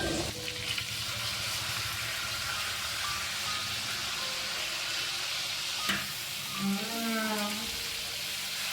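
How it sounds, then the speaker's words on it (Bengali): Bele fish fry in a pan with a continuous, even sizzle and crackle, joined near the end by a brief squealing tone and a soft knock. "আর ওদিকে আমার মাছটাও কিন্তু এক পিঠ ভাজা হয়ে গেছে।"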